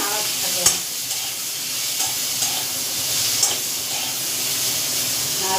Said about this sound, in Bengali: তারপরে আমি নাড়াতে থাকলাম